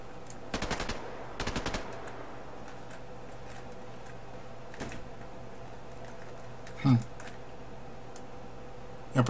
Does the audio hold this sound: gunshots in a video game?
yes